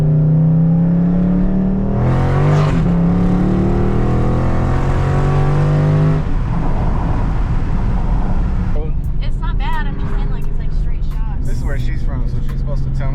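Catless mid-pipe exhaust on a 2019 Dodge Charger Scat Pack 392 V8, loud and close, with a rising rev and a pass-by sweep around two to six seconds, then a rumbling fade while the engine tone continues.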